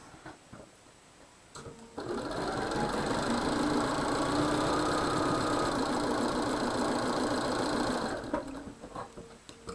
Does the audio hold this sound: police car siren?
no